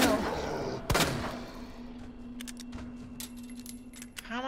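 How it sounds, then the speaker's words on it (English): Gunshots from the video game Resident Evil 2: a sharp loud shot early on, then a few fainter cracks and clicks over a steady low game hum, with no voices. "Look how many shots I'm using"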